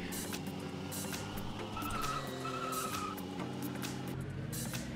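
A 2017 Ford GT in Roblox Vehicle Simulator skidding and spinning out, a continuous engine drone with a sustained tire squeal rising in the middle, fairly loud and without talk.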